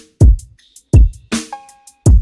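A drum loop of punchy kick and snare hits with ringing reverb tails, processed through a Lexicon 224 reverb and a tape recorder on 456 tape, played loud and close with no talking.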